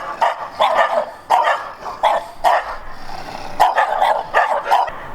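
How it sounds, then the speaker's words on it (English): Several dogs bark outside in repeated bursts of sharp barks and yips, fairly close and loud, with short pauses between volleys and no speech. "I have dogs that are on this side of me that are out all day barking"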